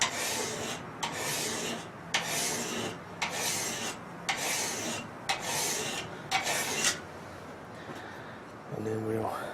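A metal file scrapes across a knife blade from a custom knife-making kit in about seven rhythmic, even rasping strokes, close up. A voice briefly follows the strokes.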